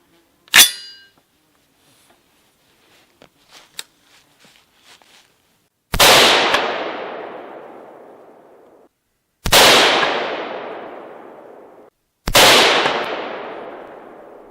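A 7.62 rifle with a 20-inch barrel fires outdoors during a chronograph test: three loud, sharp shots a few seconds apart, each with a long rolling echo, after an earlier sharp crack and light handling clicks.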